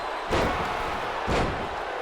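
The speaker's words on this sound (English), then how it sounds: "Body slamming." In a WWE Raw video game match, Montez Ford body slams Kevin Owens, and two heavy thuds land about a second apart over a faint arena background.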